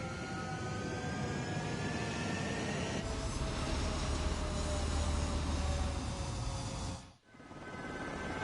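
Fighter jets taking off from a runway in Ace Combat 7, a loud sustained jet engine roar with rising whine tones that builds, then cuts out sharply before resuming.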